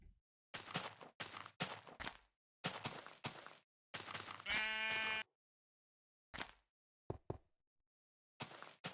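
Sheep in the Minecraft video game bleat in a series of short, close, loud cries with a rhythmic pattern, one longer bleat in the middle, separated by brief silences.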